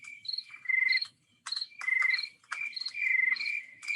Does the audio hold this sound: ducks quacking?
no